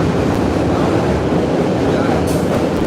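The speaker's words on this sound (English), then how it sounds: "Just wait for the train to go by." A train rolls past in a city setting, a steady, loud rumbling roar with no break for the whole stretch and a slight hiss creeping in near the end.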